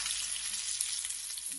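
Atlantic Ocean fish fries in a pan with a steady, close, crackling sizzle that continues without a break. No one speaks.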